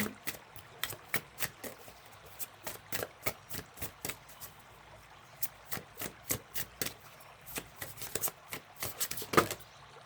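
A deck of oracle cards is shuffled by hand in a quiet room, a steady run of crisp, close riffling flicks repeating in quick bursts for several seconds with no voices.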